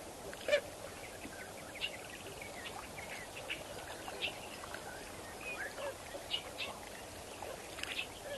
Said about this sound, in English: Beautiful sounds of the birds.